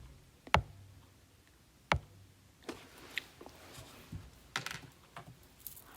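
Keystrokes on a keyboard while entering a math equation, a handful of sharp separate clicks spaced irregularly with short pauses, close and fairly quiet, no talking.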